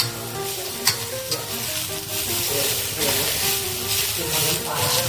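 Vegetables stir-fry in a hot pan with a loud continuous sizzle and hiss, broken by scraping and clattering strokes of the spatula at an uneven rhythm, with a voice speaking faintly underneath.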